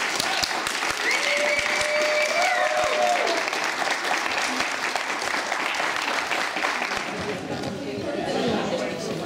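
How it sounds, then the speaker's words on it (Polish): Audience applause for the women's winner of an orienteering walking marathon in Czarnocin, a steady clapping crowd throughout with some voices and chatter mixed in, easing slightly toward the end. "więc tym większe brawa dla Ani Sejbuk."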